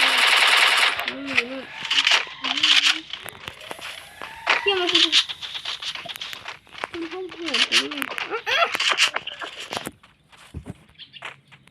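Rapid machine-gun bursts from Free Fire gameplay crackle in repeated volleys, close and loud, with people talking excitedly over and between the shots.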